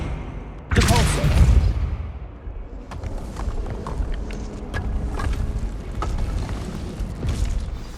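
A Depulso repelling spell is cast in Hogwarts Legacy, a sudden loud whooshing burst followed by rumbling, creaking mechanical movement and scattered clanks that continue for several seconds.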